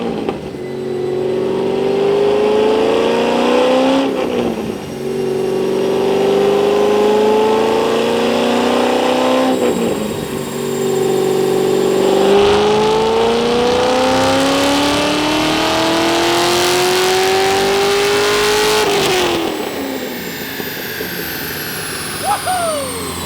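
A straight-piped Corvette roars on a dyno in long, loud pulls, each climbing steadily in pitch before cutting off and starting again, with about four sweeping runs of harsh, raspy exhaust close up.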